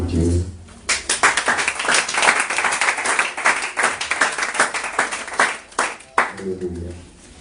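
A church congregation claps in rhythm during a Sunday worship service, brisk, sharp, steady claps filling the room while a voice speaks at the start and end.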